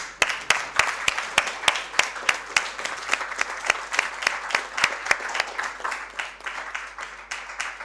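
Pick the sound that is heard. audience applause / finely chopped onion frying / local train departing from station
audience applause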